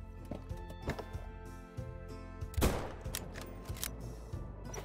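A .338 bolt-action rifle fires once in the hunting game Call of the Wild, a sharp loud crack with a brief rolling tail, set against a steady low night-time ambience with faint scattered thumps.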